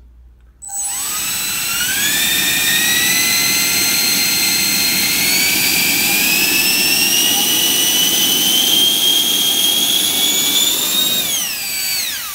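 A large homemade brushless electric motor runs at quarter throttle, spinning up with a loud, steady high-pitched whine whose rising tones climb gradually before winding down at the end; no one talks over it.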